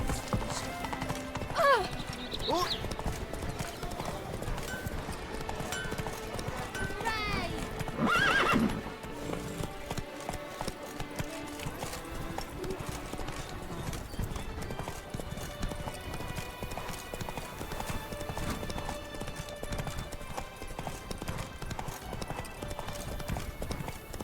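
Horse hooves clip-clop steadily through a Witcher 3 gameplay session, with a neigh or whinny early on, set against game music and ambient sound.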